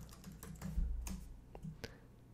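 A short burst of keyboard typing as a product search is entered, light scattered clicks close by and fairly quiet, with no voices.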